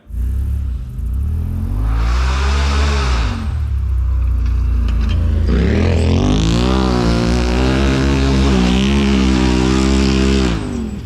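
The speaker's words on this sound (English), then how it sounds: "By far my favorite sounding exhaust from RPM." Off-road side-by-side fitted with an RPM exhaust that has both a baffle and a muffler, loud deep engine revving rising and falling in pitch, then a sustained higher-pitched acceleration run close by.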